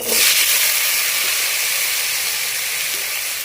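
Shrimp dropped into hot oil for frying, alongside bottle gourd peel, giving a loud, steady broadband sizzle that hisses evenly from start to finish, no voices over it.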